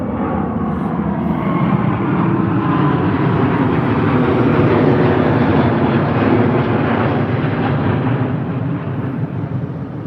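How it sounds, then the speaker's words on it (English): A British Airways Airbus A350-1000 takes off at Heathrow, producing a loud, broad jet roar that swells and holds steady over several seconds before easing slightly, with no voices. "We've just started and already we've got one taking off."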